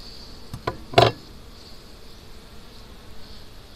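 Honey bees buzz during a hive inspection, a faint, continuous drone around the open hive, broken by a few sharp knocks and a brief clatter up close.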